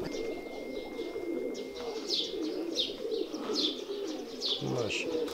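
Kamal pigeons cooing repeatedly in soft, rhythmic calls with light chirps, heard close amid a steady low background murmur, no clear talk.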